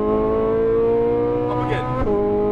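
A Ferrari 458 Italia at full throttle roars with a rising engine tone that holds loud and close. Near the end a quick break and drop in pitch marks an upshift, and a voice talks faintly underneath.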